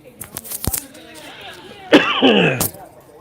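A person clears their throat and coughs a few times up close, with short harsh bursts and a raspy breathy sound.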